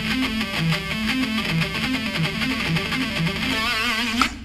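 A heavily distorted electric guitar runs a fast pentatonic triplet lick in a repeating cycling pattern, loud and continuous, with a rock tone, ending in a brief final accent.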